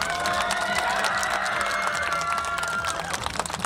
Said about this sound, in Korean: 우리 두 분 도의원 더욱더 잘할 수 있도록 큰 박수 한번 부탁드리겠습니다